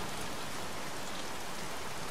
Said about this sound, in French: Foutu pluie, je suis trempé jusqu'aux os.